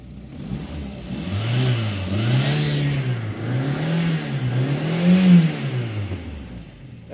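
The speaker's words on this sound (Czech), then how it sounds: "já vám ještě teda ukážu, jak motor jde teda krásně do plnejch" A homemade small tractor engine with a classic carburetor revs up toward full throttle, its mid-pitched drone rising and falling in repeated sweeps, loud and close throughout with no talk.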